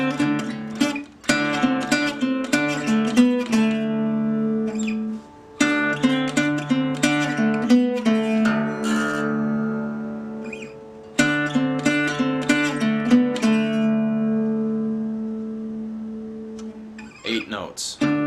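A repeated phrase of eight plucked blues guitar notes from a song, played through several times on acoustic guitar with ringing sustain, clear and solo at moderate loudness.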